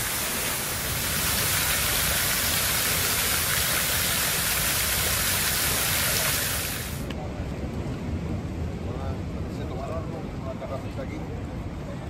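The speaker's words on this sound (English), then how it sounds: "This is a waterfall," A waterfall at Puerto de la Cruz rushes in a constant broadband roar, loud and close, with the sound changing in character partway through.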